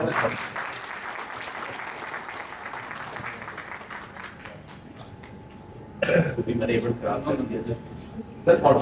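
At a Pakistan Business Club gathering, an audience claps to welcome an arriving guest. Moderate applause is mixed with coughs and murmuring, then fades, and short bursts of clapping and talk return toward the end.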